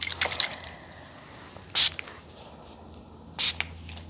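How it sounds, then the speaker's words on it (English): A spray bottle spritzes right beside the ear in short, crisp hisses: a quick cluster of sprays at the start, then two separate single bursts about a second and a half apart, all close over a quiet background. "I'm gonna spray this side and then this side."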